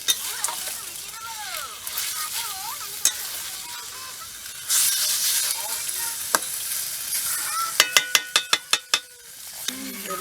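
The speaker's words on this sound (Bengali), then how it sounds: "ভালো করে মাংসটাকে কষিয়ে নিতে হবে।" Chicken pieces braise and fry in a pan for biryani, sizzling under stirring, with a louder burst of frying midway and a quick run of sharp metal clinks from the spatula near the end.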